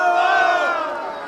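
A crowd of many voices cheers and shouts acclamations for a president, forming a dense, loud, continuous roar that holds steady and eases off slightly over a second and a half.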